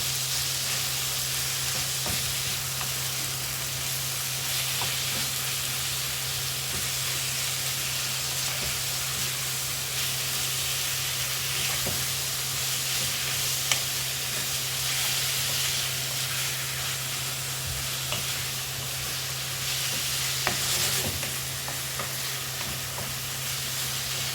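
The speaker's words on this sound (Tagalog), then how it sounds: "Then, let's add the giniling." Ground meat (giniling) frying in oil in a pan, a steady loud sizzle that holds evenly throughout with faint stirring clicks and no talking.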